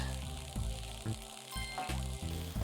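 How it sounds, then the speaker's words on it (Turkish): A laser fries the player's red ball in the platform video game Red Ball 4, giving a loud, steady frying sizzle with a few sharp bursts, heard alone without talk. "Lazer seni kızarttı Kutay."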